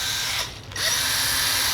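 A Milwaukee cordless drill with a keyless chuck drives screws, its motor whirring close and steady, briefly dipping and winding back up in a short pitch sweep before settling again.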